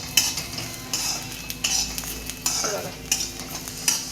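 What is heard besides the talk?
roasting ginger in a pan while stirring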